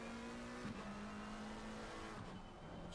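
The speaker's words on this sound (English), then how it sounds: "Just appreciate the engine noise of that wonderful McLaren." A McLaren race car engine drones steadily in a sim racing game at Zolder, a sustained mid-pitched note with a brief dip at a shift, moderately loud and uninterrupted.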